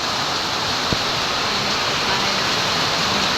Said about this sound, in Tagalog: At saka itong diretsong tulo ng ulan na ito ay diretsong creek po